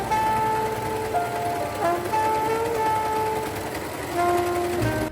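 A serger overlocks the sleeve inseam of a dress in a steady, loud mechanical whir that runs continuously throughout. Faint tonal hums and background music sit beneath the machine.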